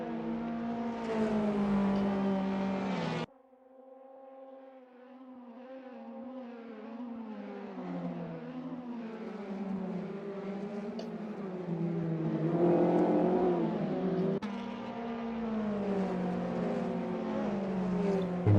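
TCR race cars in a sim racing game, engines droning and whining close up, with pitch rising and falling through gear changes and a sharp cut midway.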